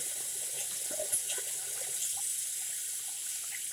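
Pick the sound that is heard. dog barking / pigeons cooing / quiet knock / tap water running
tap water running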